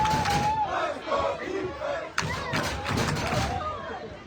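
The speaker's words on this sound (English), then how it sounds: "And the crowd getting pretty loud down there." Loud crowd noise at a varsity high school football game, Hayden at Rangely, with shouting and cheering swelling and dipping throughout, plus a sharp thud partway through.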